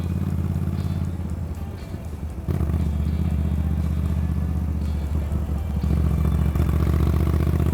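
A Moto Guzzi V9 Roamer's engine drones steadily while riding in fourth gear at around 30 mph, a low, close, continuous rumble with faint mechanical clatter and a brief dip partway through.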